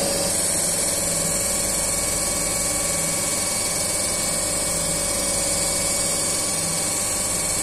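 A DC compound generator on a lab test bench runs at a stable speed, giving an even, unbroken motor hum and whine with constant loudness throughout and no voices.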